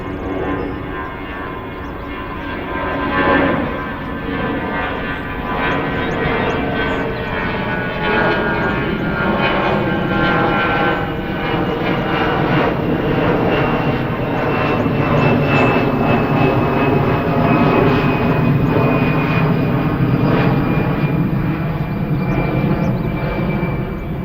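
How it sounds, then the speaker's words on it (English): A passenger jet climbing out of Minneapolis-St. Paul International Airport roars overhead, a loud, broad engine rumble that swells and holds with a slowly sliding whine, drowning out the surrounding park by a spring. "the roar of a jet engine dwarfs all other noises as a passenger plane makes its ascent out of the Minneapolis-St. Paul International Airport"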